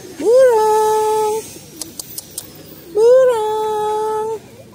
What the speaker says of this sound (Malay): Burung.